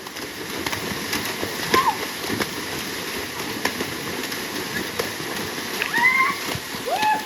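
Children bathing outdoors in a Konkan village splash water in a loose run of wet slaps and splatters under a steady rush of water, with children's voices and calls mixed in.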